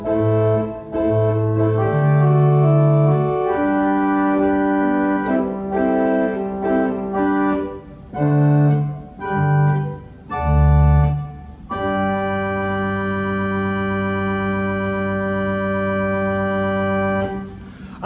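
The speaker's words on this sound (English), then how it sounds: "So the first stop on the Swell is a violin diapason." Violin diapason stop on the Swell manual of a hidden pipe organ in a Methodist church in Swaledale, playing a sustained, string-toned melody of held notes and chords, clear and fairly loud with no talking.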